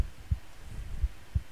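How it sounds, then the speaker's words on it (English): A low, muffled heartbeat thumps in the video game Which, three or four soft, evenly spaced pulses under a quiet hum, no talking. "Why heartbeat?"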